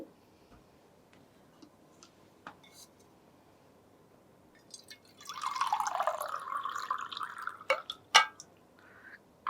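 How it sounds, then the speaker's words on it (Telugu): Water pours steadily into a glass for about two seconds in a quiet room, followed by a couple of sharp clinks. "కరెక్ట్గా half glass of water add చేసుకోవాలి"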